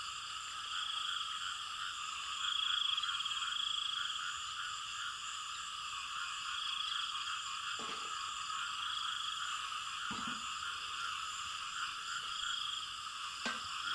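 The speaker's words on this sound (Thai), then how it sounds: "เสียงเขียดห้องระงมแล้วเสียงธรรมชาติของมันนะ" A dense chorus of frogs croaks and trills steadily just after rain in rural Thailand, many calling at once in a continuous wash, with a few faint thumps in the background.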